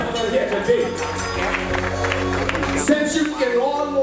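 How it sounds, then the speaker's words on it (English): Church congregation clapping their hands during worship, a dense sustained crowd applause mixed with voices and cheering, loud and close throughout. "put your hands together just one more time and give the Lord a clap offering"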